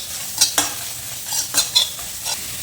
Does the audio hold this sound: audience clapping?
no